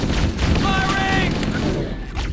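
Rapid gunfire rattles in a dense, loud burst during combat aboard the Pillar of Autumn in Halo: Combat Evolved, with a character's shouted voice mixed into the clatter.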